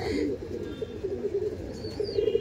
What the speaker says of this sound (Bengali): এই দেখুন পায়রা ছটফট করছে